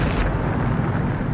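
The Bombarda spell in Hogwarts Legacy goes off as one loud, close explosion with a sharp onset and a dense rumbling body that carries on for over a second.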